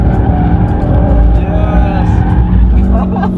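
A Ford Focus RS drifts on the Adria race track, its engine roaring loud and close under a steady, sustained squeal of sliding tires, with a voice talking over the noise.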